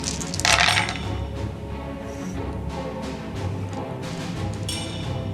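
Seven dice are thrown for a charge in A Song of Ice and Fire: The Miniatures Game, giving a brief hard clatter near the start and another toward the end over a steady low background hum.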